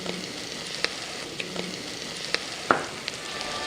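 Masala for goat leg curry frying in a pan, a soft continuous sizzle broken by occasional light clicks and scrapes of stirring, close and quiet.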